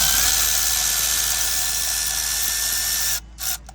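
A power tool, likely an impact gun or ratchet, whirs loud and close on a rusty starter bolt under a Kia Soul for about three seconds, cuts off, then gives one short final burst.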